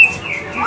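A caged young wild-caught magpie robin (murai) songbird, kept for singing competitions, gives a brief clear whistled chirp with sliding notes, loud and close against faint background noise.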